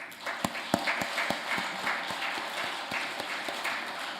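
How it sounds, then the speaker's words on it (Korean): A church congregation at a Sunday morning service applauds the volunteers, a moderate burst of clapping with a few louder individual claps standing out near the front. "우리 모든 봉사부원들에게 감사의 박수 한번 드리겠습니다."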